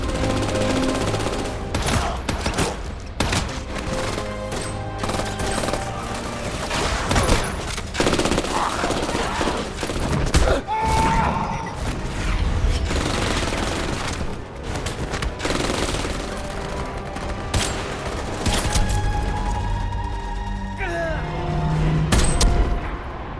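Dense gunfire from a battle in a video game simulation played at an internet cafe, with sustained bursts of automatic fire and scattered booms rattling continuously for over twenty seconds, loud and close with no pause.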